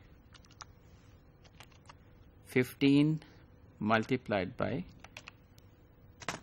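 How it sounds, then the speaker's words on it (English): Soft, scattered keyboard taps click away under a person speaking briefly, the keystrokes quiet and irregular. "you just need to type that query like I am typing"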